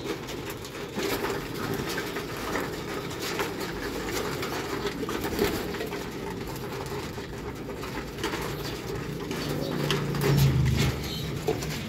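Racing pigeons coo softly in a loft, the low murmuring calls blending into a continuous rumbling bed with no voices.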